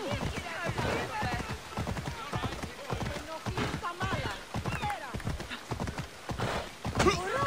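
Horse hooves pound in a steady clip-clop gallop in the video game Assassin's Creed Odyssey, loud and close, with occasional whinnies and someone talking over the rhythm.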